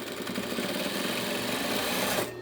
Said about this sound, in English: We're top stitching this curtain also because this is how it originally was.